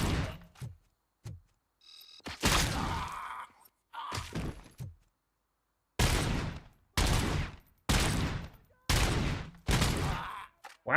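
Gunfire in the game Robocop: Rogue City, with sharp, loud shot bursts separated by gaps early on, then a steady run of six rapid, punchy volleys with ringing tails.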